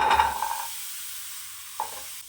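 Small shallots tipped into hot oil in a pan while cooking Chettinad mutton gravy, a short sharp sizzle burst that quickly settles into a faint hiss, with a small clink near the end.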